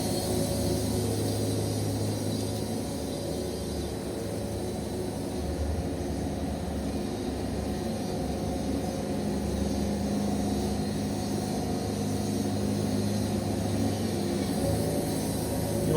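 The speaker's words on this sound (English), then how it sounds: "You want that motor to bog like that. That's when you know you got good belt pressure." A Woodmizer LT70 sawmill's motor bogs down under heavy belt pressure while cutting, a steady, loud, dense drone that holds throughout without pause, close up.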